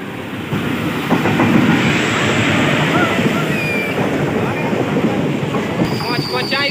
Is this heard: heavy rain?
no